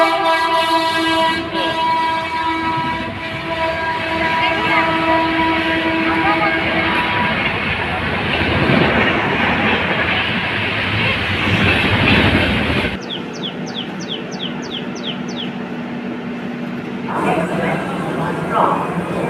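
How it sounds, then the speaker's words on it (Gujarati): Passing train with a horn, heard from aboard another train at a station: steady loud rumble and clatter for about thirteen seconds, then a series of short sharp horn or whistle blasts over quieter background. "બીજી ગાડીનો અવાજ પાવાનો અવાજ આવે ને, હવે એ ગાડી આવી ગઈ છે"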